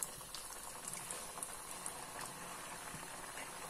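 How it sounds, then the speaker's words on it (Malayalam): Rava gulab jamun balls fry in oil over a medium flame, a faint, steady bubbling and fine crackle with no talking. "ഒരു മീഡിയം ഫ്ലെയിം ആവുമ്പോൾ നമ്മൾ ഇതൊക്കെ വറുത്തു കോരണം"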